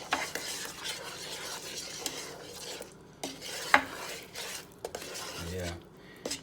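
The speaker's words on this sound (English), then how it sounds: "Just stir that up nice and good." Spoon stirring a thickening candied yam sauce in a Power XL electric cooker at home, with soft, steady scraping and clinks against the pot across the whole stretch, plus a few louder knocks.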